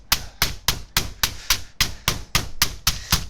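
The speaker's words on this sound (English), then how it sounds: "that's flattening it out a little bit, but also tenderising the meat" Heavy meat mallet pounding pork pieces between sheets of parchment for schnitzel, about a dozen sharp thuds landing in a steady, even rhythm, close and loud with no talk.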